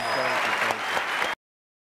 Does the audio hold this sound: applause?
yes